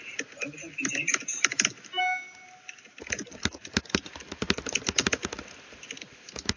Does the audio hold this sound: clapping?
no